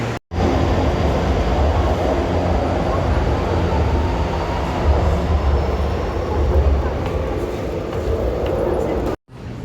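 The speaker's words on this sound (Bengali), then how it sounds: "এই যে আমি আসছি এখানে যে মেট্রোটা আসবে" A metro train arrives at a station, making a loud, steady rumble and rush that fills the whole stretch without a break before it cuts off abruptly.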